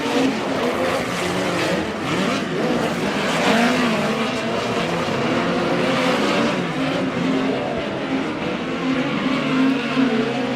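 Midget race cars racing on a dirt track during a heat race near its final laps, a loud continuous roar of several engines revving and droning together, sustained and dense throughout.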